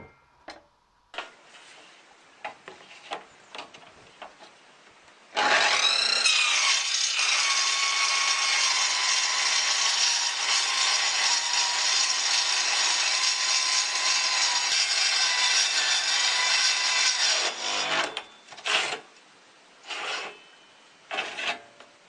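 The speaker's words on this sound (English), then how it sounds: "I dialed the saw in at about 2300 RPMs, which turned out to be a bit too slow" A circular saw fitted with a dry-cut blade bites into steel, giving a loud, sustained high-pitched grinding whine for about twelve seconds, framed by brief scraping and clanking handling noises before and after the cut.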